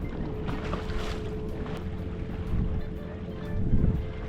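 An Alumacraft 185 Competitor fishing boat cruising slowly downwind, a low steady rumble of hull and water with wind noise over the microphone, no voices.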